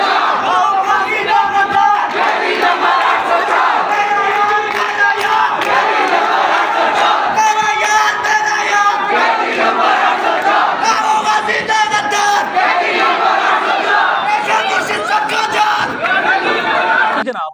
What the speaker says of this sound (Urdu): انہوں نے شدید نعرے بازی کی